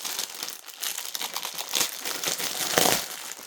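Plastic packets of embroidery floss, a boxed set of 38 colours, are unwrapped with a continuous close crinkling and rustling of wrapping, steady and fairly quiet, with no voices.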